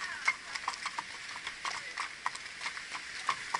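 Mérens horses walk over ground beside running water, their hooves giving a steady run of light clip-clop steps close by, over a soft wash of flowing water.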